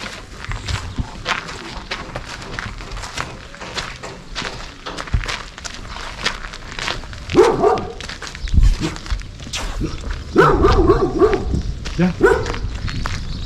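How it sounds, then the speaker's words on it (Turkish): A dog barks several times outdoors in the village of Küçükköy, its barks scattered among footsteps, rustling and people talking nearby. "Köpek. Köpeğe git."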